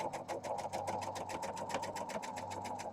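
A sewing machine stitches quilt pieces in a steady, rapid mechanical chatter of needle strokes, close and continuous, with a low motor hum underneath.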